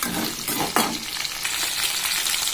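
Ingredients for Rayalaseema-style sambar frying in hot oil in a pan, a loud close sizzle with a sharp burst of spitting near the start, then a steady crackling fry with no voices.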